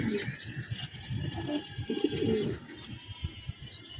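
A flock of pigeons coos in low, soft repeated calls, with fluttering and flapping wings mixed in as the birds fly together over a loft.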